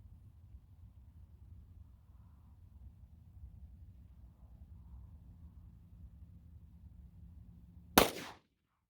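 A single 9mm Winchester Defender PDX1 124 grain +P round fires from a 3-inch barrel, one sharp crack near the end after a long low rumble of background noise.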